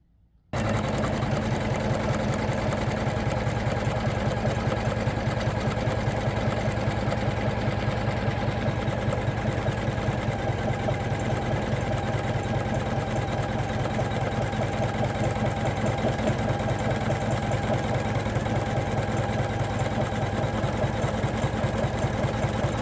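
A Janome MC500e embroidery-only machine stitches steadily, a constant close whirring hum with fine rapid mechanical ticking that starts abruptly and continues without a break.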